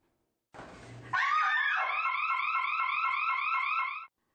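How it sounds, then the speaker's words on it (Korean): A woman's short scream in an empty women's restroom, then a loud warbling electronic alarm siren that wails steadily for about three seconds and cuts off abruptly. "무언가에 놀란 여성이 비명을 지르는 순간 사이렌이 요란하게 울립니다."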